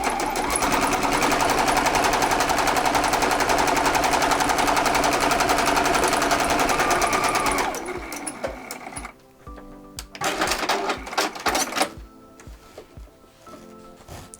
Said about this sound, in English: I'm bumping my stitch length back up to 5, and I'm just gonna sew straight down.